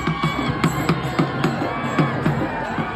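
Crowd cheering and shouting at a mardani khel martial arts show during a Shivrajyabhishek celebration, with steady rhythmic beats pulsing through the lively, continuous noise of the gathering.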